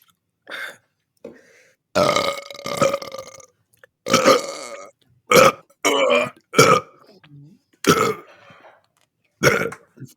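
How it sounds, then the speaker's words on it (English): Grown men burping on a podcast, a series of about eight loud, close, drawn-out belches separated by short silent gaps. "Let's get a quick apology burp for the brain gang."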